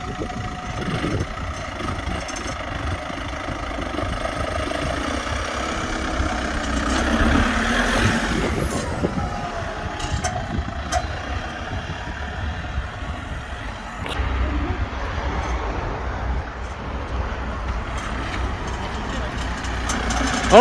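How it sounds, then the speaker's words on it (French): A car engine runs steadily with a metallic, pan-like rattle from a fault after a burning smell, a continuous mid-level drone with irregular clanks, and people talk over it. "Et juste après, un bruit de casserole, pas rassurant du tout."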